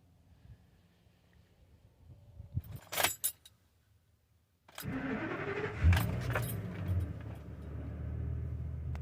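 A Ford F450 Altec bucket truck idles quietly, a brief clatter follows, then after a pause the engine turns over and runs with a steady, loud rumble.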